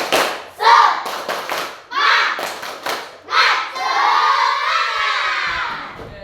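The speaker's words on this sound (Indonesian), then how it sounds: "Tepuk semangat. Sekali lagi tadi belum kompak, sekali lagi. Tepuk semangat." Children in a group do a rhythmic spirit clap, bursts of clapping in a patterned beat mixed with shouted chants, ending in a longer sustained cheer.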